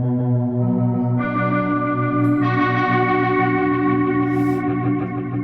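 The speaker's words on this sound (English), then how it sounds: "I've just gone on to Poly, which is based on their Polymoon delay" Polyphonic guitar delay from a Meris LVX pedal on its Poly setting, modeled on the Polymoon, with sustained chorused tones that layer and thicken, swelling brighter in steps and echoing steadily without pause.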